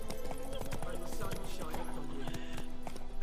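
Roach the horse trotting in The Witcher 3, a steady clip-clop of hooves under continuous game music and a voice talking throughout.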